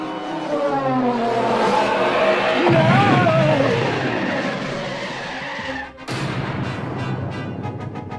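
Millennium Falcon braking thrusters from a Star Wars sci-fi spaceship scene roar in a loud, sweeping, screeching rush, followed near the six-second mark by a sharp second blast and a trailing rumble.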